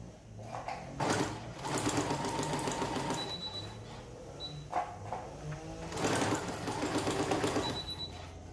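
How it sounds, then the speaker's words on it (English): A sewing machine stitches curves without thread, giving short bursts of rapid mechanical whirring and chattering with pauses between runs, fairly quiet and close. "My machine is just not gonna let me go all the way around without the thread being in there."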